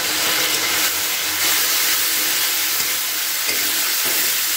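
Chilli cauliflower masala with tomato being stirred in a frying pan, a steady sizzle and hiss running throughout with soft, intermittent scraping of the spoon against the pan.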